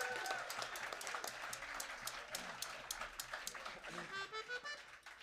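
Concert audience at a 30th anniversary show clapping for the performers, a spread-out round of applause that thins and turns into scattered individual claps near the end.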